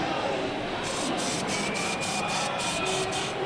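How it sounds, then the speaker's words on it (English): A compressed air duster blasting dust out of a PC case, a continuous loud hiss close by, with faint pulsing in the background throughout. "So when you spray the gates in the back, you're only pushing air into it."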